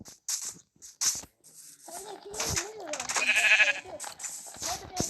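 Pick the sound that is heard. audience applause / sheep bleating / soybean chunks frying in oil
sheep bleating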